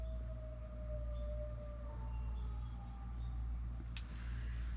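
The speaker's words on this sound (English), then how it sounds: "Yeah, that is definitely an unhappy wolf." A wolf gives a faint, drawn-out howl whose pitch slowly falls, over a low background rumble.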